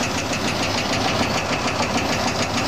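Oliver 240 gravity table seed separator runs steadily under variable-frequency drive speed control at about 401 RPM, a dense continuous mechanical drone with a fast rhythmic knock-like pulse, close and constant throughout.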